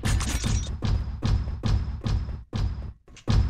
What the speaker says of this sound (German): Ich höre wieder deine fetten Schritte.